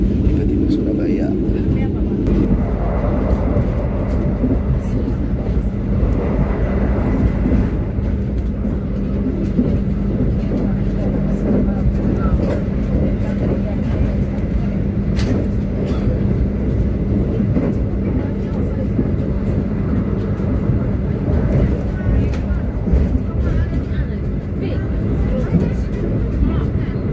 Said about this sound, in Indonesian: kereta api Sangkuriang ini menjadi kereta penutup untuk rute Surabaya Bandung ya